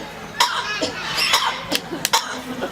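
A parrot named Fernando imitating a person clearing its throat, giving several short, sharp coughs spaced irregularly, fairly close and distinct against a quiet background.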